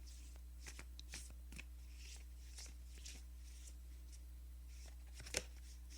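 Tarot and oracle cards being shuffled by hand in quick repeated riffles and flutters, close and crisp over a low steady hum, with one sharper snap near the end.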